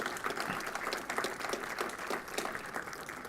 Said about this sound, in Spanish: nos damos un aplauso todos los nombrados y aquí presentes